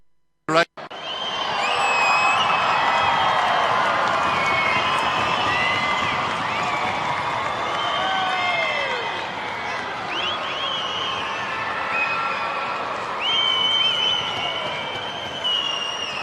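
Stadium crowd at the 2012 Gold Coast Sevens rugby final between New Zealand and Fiji, cheering, whooping and applauding in a broad sustained roar. An announcer's amplified voice and shrill whistles carry over the noise.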